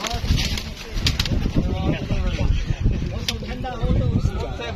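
Pigeons on a rooftop, including a yellow-collared pigeon, with soft cooing and scattered wing flutters that carry steadily beneath someone talking throughout.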